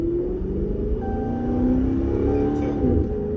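A Dodge Charger R/T fitted with a throttle response controller accelerates in sport mode, giving a steady low engine rumble with a tone that climbs as it pulls.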